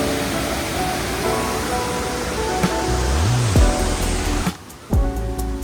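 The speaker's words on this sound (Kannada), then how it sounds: "ಇಲ್ಲೊಂದು ಫಾಲ್ಸ್ ಇದೆ" Soormane Falls near Nethravathi Peak pours with a steady, loud, close broadband roar of rushing water, with a few low thumps and bumps toward the end and no voices.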